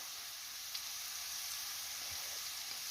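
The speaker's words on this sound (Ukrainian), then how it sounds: "Зараз трошечки протушу цю моркву." Onion and carrot fry quietly in a pan for a potato stuffing with mince and mushrooms, giving a soft, steady sizzle with faint crackles and no talk.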